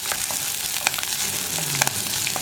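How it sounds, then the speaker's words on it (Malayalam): Ginger, green chili and onion sautéing in a pan for a mango fish curry give a steady close sizzle and fry crackle, with a few soft stirring scrapes and small pops throughout. "ഇഞ്ചിയും പച്ചമുളകും ഉള്ളിയും ഒക്കെ നന്നായിട്ടൊന്ന് കുക്കായി വരട്ടെ"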